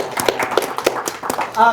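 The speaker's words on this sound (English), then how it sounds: "Can we give them a round of applause for putting their hands together?" Audience applause at an event saluting veterans in recovery, with a brief burst of scattered, uneven hand claps from a smallish crowd, ending as a voice begins speaking.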